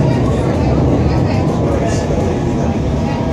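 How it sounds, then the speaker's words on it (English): London Underground S Stock train running on the Circle Line via Victoria and High Street Kensington, heard from inside as a loud, steady low rumble and rattle throughout. "This is the Circle Line train around the city."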